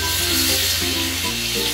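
Spices and salt frying in oil for Rui fish korma, a loud, steady, close sizzle with no pauses and no speech.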